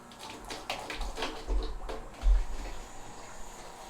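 Water rushes and gurgles through a newly started reverse osmosis system for concentrating maple sap, with a low hum and a couple of louder surges.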